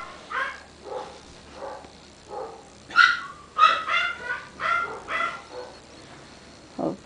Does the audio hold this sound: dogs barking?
yes